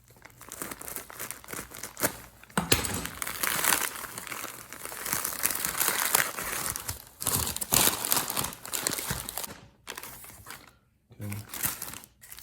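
Plastic packaging around turkey wings is cut and torn open, giving loud, irregular crinkling and ripping in bursts with short pauses between, with a voice heard faintly at times.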